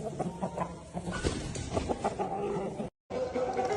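Shamo game chickens from German and Japanese lines cluck and mutter close by in a steady, soft stream of short calls, with no talking over them.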